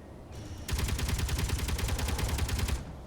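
Gatling guns on a small grid ship firing in Space Engineers, a loud, rapid, continuous stream of shots lasting about two seconds before cutting off.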